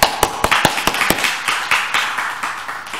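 A church congregation claps in a quick burst of sharp, close handclaps during a Bible study sermon, the rhythm loosening into a softer, blurred patter that fades over a few seconds.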